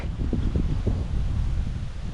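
Strong typhoon wind gusts buffet the microphone in a steady low rumble, with rustling leaves and rough bursts of noise throughout.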